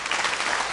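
Concert audience applauding the musicians of a live TV band performance: a brief, dense, steady burst of many hands clapping at close range, no speech over it.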